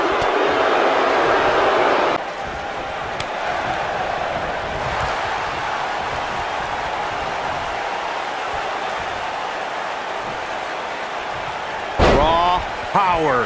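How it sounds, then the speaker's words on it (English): A wrestler hits a gut-wrench suplex in a wrestling match, with a heavy slam onto the mat over a constant crowd roar, and a commentator's excited voice rising near the end. "Hits him with a gut-wrench suplex."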